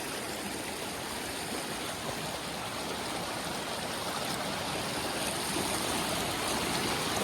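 Cox Hollow waterfall and its stream at Governor Dodge State Park pour in a steady, dense rush of water, close and continuous, swelling slightly louder toward the end with no voices.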